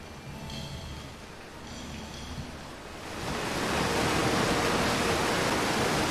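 A waterfall in the video game Outer Wilds gives a steady broadband rush of falling water that swells louder partway through and then holds, with no talk.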